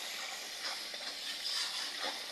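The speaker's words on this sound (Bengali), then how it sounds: "আর এখন মশলা আমি কষাইতেছি।" Spices sizzling in hot oil in a pan while being stir-fried for home-cooked chicken biryani, a steady soft hiss with faint scraping stirs, close and quiet, no talk.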